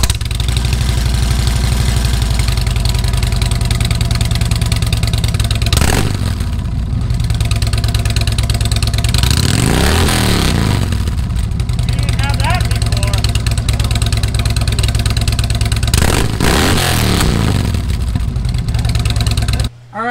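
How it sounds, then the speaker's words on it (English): Harley-Davidson Street Glide with an S&S Performance exhaust idling loudly with a deep, steady rumble, broken by a few sharp revs that rise and fall, heard up close. "let me go fire it up again, and we'll give you guys some revs here"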